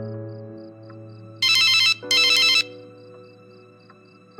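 A telephone rings in two loud electronic bursts close together over a low sustained musical drone, with faint regular beeps in the background.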